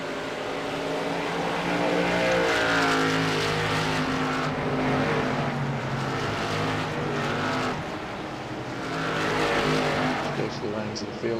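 Race cars at Lucas Oil Raceway running single file on the track, a steady loud engine roar with rising and falling whine as cars pass, and a commentator talking over it throughout.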